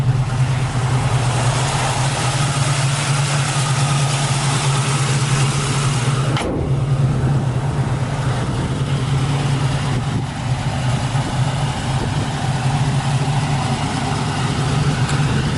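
A 1969 Camaro Z28 clone idles with a steady, even low rumble, loud and close throughout with only small shifts, and no talking.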